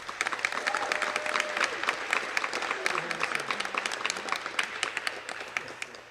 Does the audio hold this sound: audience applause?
yes